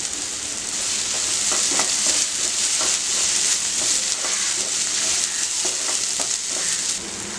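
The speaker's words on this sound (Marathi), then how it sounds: "आलं लसूण पेस्ट परतून घेऊया।" Ginger garlic paste sautéing in a hot pan, a steady loud sizzle running throughout with intermittent scraping strokes of a spoon stirring, close and without any talking.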